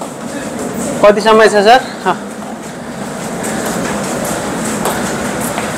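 A train running along a railway line gives a steady, broad rumbling hiss throughout, while a man briefly asks a question near the start.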